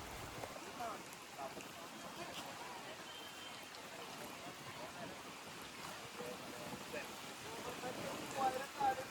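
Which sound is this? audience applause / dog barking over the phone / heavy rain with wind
heavy rain with wind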